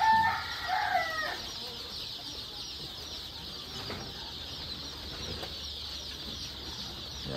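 Chicks in a poultry brooding shed make soft, steady cheeping and clucking, with a brief burst of louder calls at the start over a constant hum.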